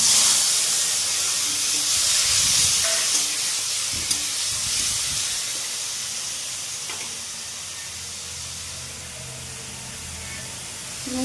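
Onion and garlic paste hissing and sizzling in leftover oil in a wok while cooking sting fish; a steady loud broadband sizzle that slowly eases, with faint clatter of stirring.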